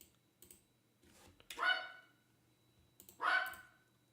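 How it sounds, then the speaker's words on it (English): A dog barks indoors, two sharp barks about two seconds apart, faint and slightly distant, with light clicking between them. "What are you barking at?"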